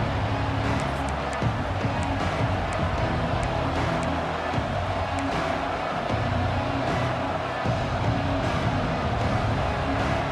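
Stadium crowd in a college football video game, a steady broad roar of many voices that holds at an even level throughout, with scattered brief swells of cheering rising above the continuous rumble.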